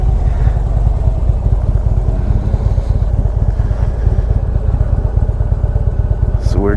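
Harley-Davidson motorcycle riding, a loud steady close-up engine rumble with rapid low pulsing throughout.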